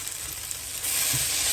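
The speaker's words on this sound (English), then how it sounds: "So I'll just add half of finely chopped coriander" Finely chopped coriander is added to a hot pan of dosa chutney, giving a steady close sizzle and frying hiss that swells slightly near the end.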